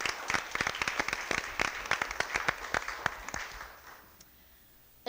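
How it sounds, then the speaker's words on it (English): Round of applause at a school board meeting, a small group clapping with distinct, rapid hand claps, lively at first, then thinning and fading out toward the end, leaving a quiet room. "I'd like to give them a special round of applause."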